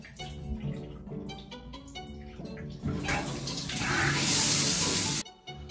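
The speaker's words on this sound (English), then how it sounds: "resorting to showering in warm water and then blasting myself with cold water for 30 seconds in the end" Cold shower water runs hard in a bathroom, a steady close hiss and splatter that swells louder midway and then cuts off abruptly near the end, with some clattering before it.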